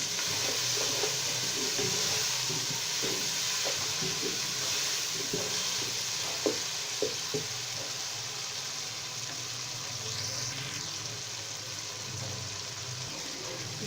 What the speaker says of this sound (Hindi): ज़ीरे को खुशबू आने तक भूनेंगे।